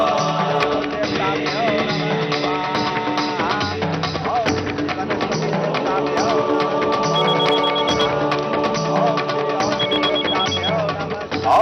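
A mobile phone ringtone during a wedding puja, a repeating electronic melody that plays loudly and continuously for about eleven seconds, with a faint voice briefly under it.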